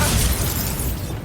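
A Bombarda spell explosion in the video game Hogwarts Legacy, a loud, dense blast that fills the whole moment with roaring, crackling noise before easing off at the end.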